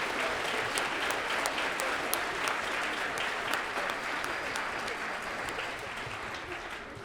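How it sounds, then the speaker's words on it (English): Sustained applause from a school winter concert audience for sixth grade musicians fills the room evenly, a dense wash of many hands clapping that fades slightly toward the end. "let's give them a big round of applause for overcoming all the adversity that they took care of."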